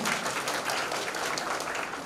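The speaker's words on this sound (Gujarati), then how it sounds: "તો ફરીથી એમને એકવાર તાળીઓથી વધાવી દઈએ" Applause from the audience at a farewell ceremony for a retiring officer at a State Reserve Police camp, a dense steady clapping that fills the whole clip without any voices on top.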